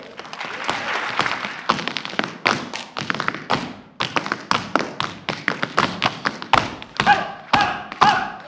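Tap dancing on a stage by a performer fronting a trio, rapid sharp taps and heavier heel thuds in shifting rhythmic bursts, close and loud, with faint applause-like spill.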